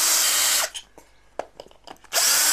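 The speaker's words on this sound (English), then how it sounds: "I'm re-drilling the holes with a slightly larger bit so I can use larger and longer screws." A power drill re-drills screw holes for a shelf bracket with a slightly larger bit, giving two loud whirring bursts close by, separated by a gap of small knocks and handling sounds.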